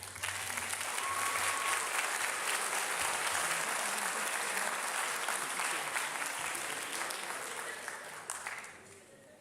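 Sustained applause rises from the audience at a high school orchestra senior concert, a broad, even wash of many clapping hands with some crowd noise and voices mixed in, tapering off toward the end.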